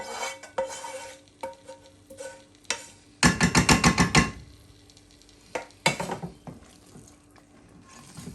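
Sauce is stirred in a pan with a utensil, making scraping, clattering strokes in bursts, one loud spell of rapid rattling scrapes midway, with quiet gaps between and no talking.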